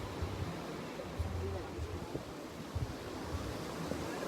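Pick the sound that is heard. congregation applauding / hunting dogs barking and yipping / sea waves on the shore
sea waves on the shore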